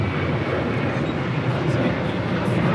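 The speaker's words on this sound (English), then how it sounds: "United Airlines Flight 1897 heading to Chicago O'Hare. This one, a 787-10 Dreamliner." A United Airlines Boeing 787-10 Dreamliner departing LAX runway 25 right, bound for Chicago O'Hare, gives off a broad, loud jet engine roar that fills the whole stretch without letting up.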